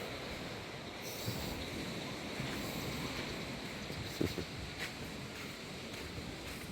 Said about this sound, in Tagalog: Maganda-ganda na ngayon ng alon.